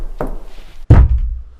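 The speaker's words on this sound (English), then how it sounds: "Could you please knock on something for us? Perhaps like 2 knocks, like this." Two knocks on a hard surface, a lighter tap followed by a much heavier, booming thunk with a short resonant tail, close and loud in an otherwise quiet room.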